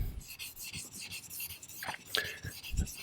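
A knife ground on a soft Arkansas sharpening stone gives faint, uneven rasping strokes, quiet and close, with short scraping bursts repeating over a few seconds.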